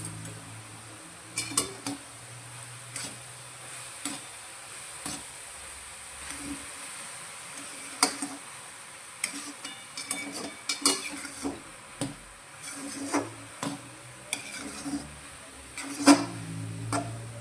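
A spoon stirring carrot halwa with ghee and milk solids in a pan, close up: intermittent scraping clinks and knocks against the metal at an irregular rhythm, quiet between strokes, with no talking.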